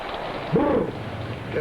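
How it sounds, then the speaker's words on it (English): Rain falls steadily on a cold night, a dense, even hiss with a soft low rumble briefly swelling beneath it. "Then one night we got one of those cold snaps, and rain"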